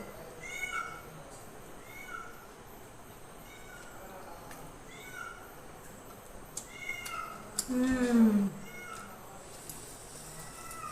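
A house cat meows several times in short, faint, evenly spaced calls, with a louder, sharper clatter near the end in a home kitchen where a pancake is being cooked.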